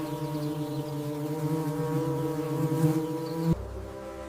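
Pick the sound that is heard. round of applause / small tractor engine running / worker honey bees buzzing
worker honey bees buzzing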